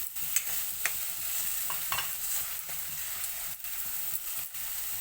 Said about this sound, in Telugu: ఈ ఆనియన్స్ ఇది రెండు కలిసి ఫ్రై అవుతాయండి. ఇవి కొంచెం బ్రౌన్ అయ్యేదాకా మనం వేపాలి.